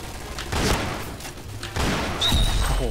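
A pirate-style gun in the shooter game Point Blank fires a few loud, punchy shots over busy background game noise, with no one speaking.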